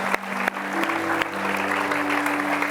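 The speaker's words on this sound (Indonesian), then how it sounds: "Saya minta tepuk tangan dong buat Opa." Audience applause for an elderly guest called Opa on an Indonesian TV entertainment show, a dense, steady wash of clapping lasting the whole clip, with a steady low tone running beneath it.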